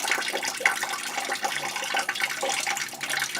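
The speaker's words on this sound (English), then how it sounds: "look like there's water's coming out of this thing here. It's still draining." Water trickles and splashes steadily from an old 66-year-old boiler pipe as it keeps draining, a close, continuous wet rushing with no talk over it.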